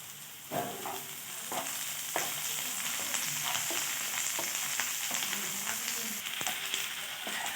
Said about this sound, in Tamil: கொஞ்சம் கருவேப்பிலை போட்டுக்கலாம்.